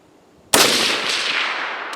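A rifle shot at a steel target, fired from a budget sniper rifle during accuracy testing, cracks out sharply about halfway through and leaves a long, loud broadband roar that carries to the end with no voices.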